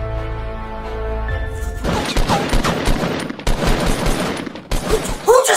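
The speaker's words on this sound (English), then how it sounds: "Who just shot without me saying three?" In a shooting video game, a low steady hum gives way to dense, loud bursts of rapid gunfire, with volleys cracking in quick succession and a short lull before a final burst.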